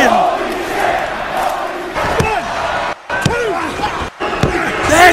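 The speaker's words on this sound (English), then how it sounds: "This crowd is going ballistic." Crowd noise at a wrestling match between figures of Cody Rhodes and Vader: a loud, continuous roar with sharp bursts and brief dropouts, heavy impacts and sweeping whistle-like tones punctuating the din throughout.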